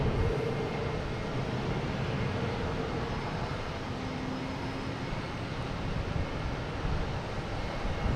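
An airliner takes off at Boston Logan Airport, heard as a broad, steady roar of jet engines that stays loud for the whole stretch with no voices over it.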